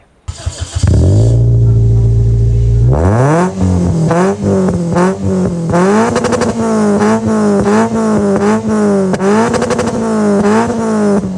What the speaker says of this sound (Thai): เดี๋ยวเราไปฟังเสียงปลายท่อกันดีกว่า ว่าเสียง ปลายท่อของอุดมวันเป็นยังไง